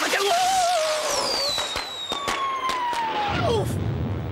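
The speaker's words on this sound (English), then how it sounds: "You can't light fireworks in the stadium, it's against the rules." Fireworks and firecrackers go off inside a football stadium, loud crackling bursts and whistling streaks with sharp repeated bangs, close and continuous over a crowd-like roar.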